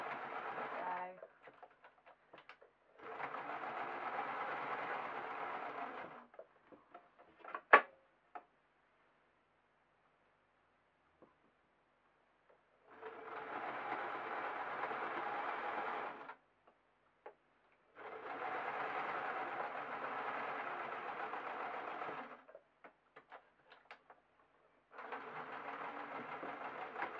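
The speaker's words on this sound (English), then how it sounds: "I'm just going to literally sew the whole circle" Sewing machine stitching a circle in fleece for a balaclava, several separate runs of steady whirring lasting a few seconds each, broken by quiet pauses and a brief click.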